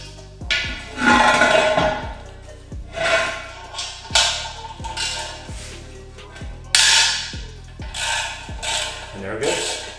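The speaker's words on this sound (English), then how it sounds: "you want to use your ratchet to take it off" A ratchet clicks close by as it loosens a soft, malleable bolt on a three-piece SSR GT3P wheel during a rebuild. The clicks come in repeated bursts of quick ratcheting strokes, with short pauses between them.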